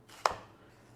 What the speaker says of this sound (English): Next, we're chopping half a green pepper.